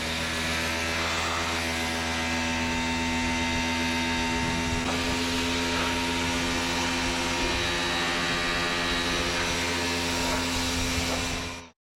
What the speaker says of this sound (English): now we're gonna hit her with the pressure washer again